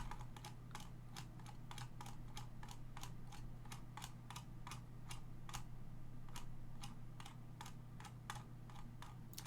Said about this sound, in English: It's not only my keyboard that's very loud, it's also my mouse that is very loud.